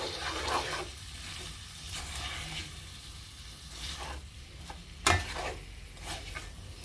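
A spoon stirs fish pieces through spices and pickle in a hot pan for a Mauritian fish vindaye, with soft scraping strokes over a low sizzle, one sharper clink of metal on the pan, and no talk.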